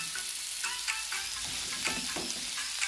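Saundale fish frying in a pan sizzles steadily, with a continuous crackle and spatter broken by a few soft scraping stirs of the pieces, close and without any talk.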